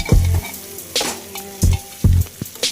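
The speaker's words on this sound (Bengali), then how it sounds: "গ্যাস বাড়িয়ে কিন্তু ভাজছি" Potatoes and mutton frying together over a high gas flame in a pan, with a loud close sizzle broken by several heavy spatula scrapes and stirs in an uneven rhythm.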